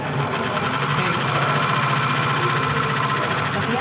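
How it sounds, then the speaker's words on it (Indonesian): A DC motor on an electrical machines training bench spins up from rest, giving a steady, continuous hum and whir with a faint mechanical buzz that stays constant and fairly loud throughout. "kita putar mesin sampai mesin pertama kali berputar"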